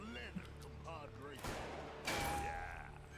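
Explosions and gunfire in the tactical video game Hard West 2: a couple of sharp, booming blasts that ring out over the game's background sound, with someone talking at the start.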